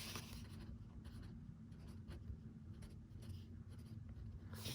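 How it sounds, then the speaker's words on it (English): Pen writing numbers onto a paper budget sheet, a quiet close scratching that comes in short strokes over a low steady background hum. "So I'm gonna write that there."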